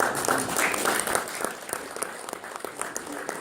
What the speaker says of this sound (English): So I want to give a round of applause for all the hard work that they put on here.